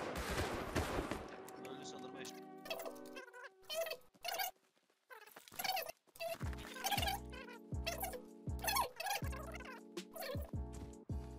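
Gunfire in the video game Rust rings out as sharp bursts of shots, close and loud, broken by pauses and backed by a steady tonal game hum.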